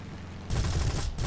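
A rapid burst of automatic aircraft cannon fire in War Thunder, loud and continuous, starts abruptly after a low engine drone.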